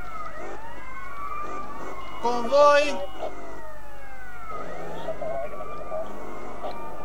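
Police sirens in the video game GTA Liberty City Stories wail in rising and falling sweeps under a steady game-engine hum, with someone speaking briefly over them.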